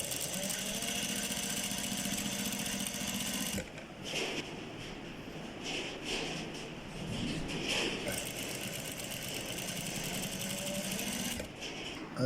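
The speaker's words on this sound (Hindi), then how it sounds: "इसको सिलाई लगानी यहाँ से शुरू कर दें।" A sewing machine stitching a front placket (patti) on a garment, a continuous fast mechanical whir close by, broken by short pauses and stops as the fabric is adjusted, with no talk.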